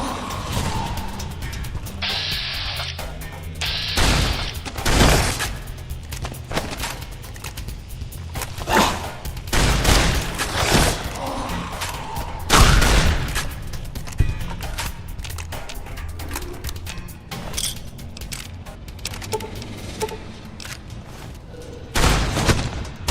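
Rapid bursts of plasma rifle fire from Fallout New Vegas mixed with other combat impacts, sharp repeated blasts scattered irregularly through a busy game battle, loud and close.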